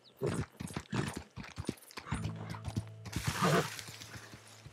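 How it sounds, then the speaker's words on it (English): Horse hooves clop in Red Dead Redemption 2, a quick run of close, crisp hoofbeats in uneven rhythm, followed by a denser scuffle of movement and soft game sounds. "Horsey Horse. Let's jump on."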